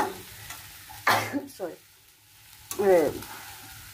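Taro stolons frying in a generous amount of oil, with mustard seed paste to follow, give off a low steady sizzle while a spatula stirs and scrapes the pan in a few brief bursts.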